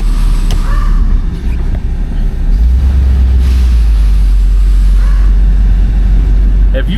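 A 1978 Chevrolet Corvette with a 350 V8 of under 200 horsepower drives along, its low engine drone loud and steady over road rumble, with no one speaking.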